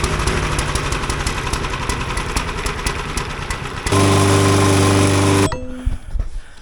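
A lawn mower engine with a grass bag runs loud and close in a steady buzzing drone, shifts to a harsher tone briefly, then cuts out near the end.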